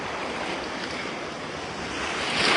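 Large surf breaking on a beach, waves taller than a person, a steady broad roar with wind buffeting the microphone, swelling louder near the end, no voices.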